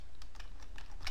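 Fingers type quickly on a computer keyboard, about six crisp key clicks in a brief uneven run, close and quiet with no talking.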